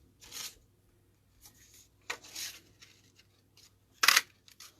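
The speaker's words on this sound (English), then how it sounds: "I'm going to cut out 2 of these ovals." Scissors snipping paper ovals out of a sheet of cardstock, a few short crisp cuts spaced out at an irregular pace, close and fairly quiet.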